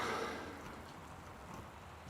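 Steady rain in the game Gone Home, a soft continuous patter on surfaces, faint and even, fading slightly after a brief louder start with no voices over it.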